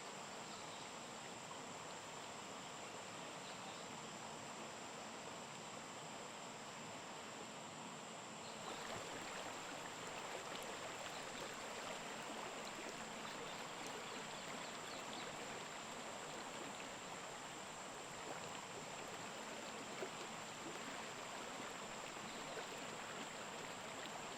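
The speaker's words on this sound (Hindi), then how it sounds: "नदी के जल की कलकल ध्वनि," The Tungabhadra river flows and gurgles steadily along its bank, a continuous rushing water wash that grows slightly fuller after a few seconds, with a faint high insect tone above it and no talk.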